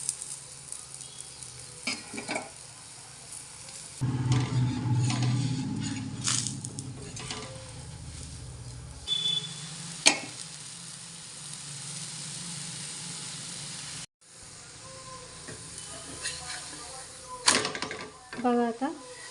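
Chickpea-flour (besan) dhirde batter sizzles and crackles steadily on a hot pan, with a dense hiss that swells and fades alongside occasional utensil clatter and brief voices.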